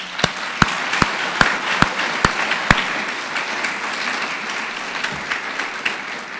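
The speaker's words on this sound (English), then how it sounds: "please join me in applauding all the student work tonight" A crowd applauds student work at a school awards broadcast, a continuous wash of clapping with several sharp, evenly spaced loud claps standing out near the microphone in the first half.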